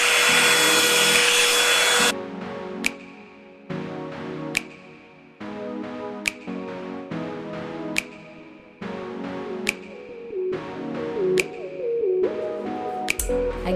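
A Revlon hair dryer brush blows a loud, steady whoosh for about two seconds, then cuts off, and tinkly music with sharp plinks takes over.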